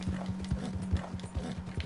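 Horse hooves in Red Dead Online clip-clop in a steady rapid galloping rhythm, loud and close, heard alone.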